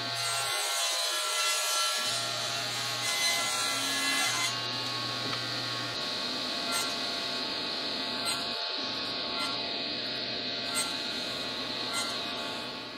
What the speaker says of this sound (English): I'm cutting this to 1/8 of an inch thick